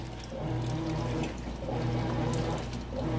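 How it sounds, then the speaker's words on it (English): A Whirlpool high-efficiency top-load washer fills with water during its wash cycle, a steady close rush of incoming water with faint sloshing as the load is submerged. "it's still adding the appropriate amount of water so that these get submerged"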